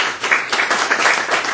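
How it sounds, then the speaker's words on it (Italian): An audience gives welcoming applause at a talk with Professor Paolo Gravagnuolo: a brief, dense patter of many hands clapping at once, fairly loud and without a break. "facciamo un applauso di benvenuto"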